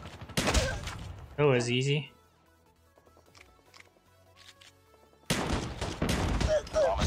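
Pistol and shotgun fire in the Call of Duty Mobile multiplayer game: loud, dense bursts of shots at the start and again at the end, with a brief quiet stretch and a man's short spoken line between.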